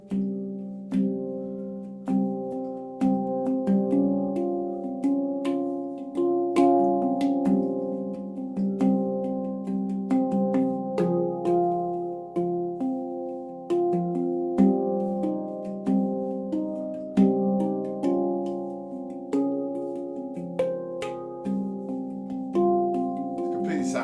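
Handpan played steadily for about twenty seconds: ringing, overlapping metallic tones struck in a flowing rhythm, each note blooming and decaying, close and fairly loud.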